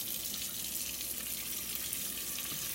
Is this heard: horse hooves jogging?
no